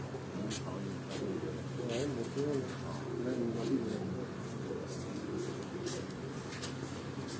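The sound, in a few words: pigeon cooing, pearl-eyed Sialkoti breed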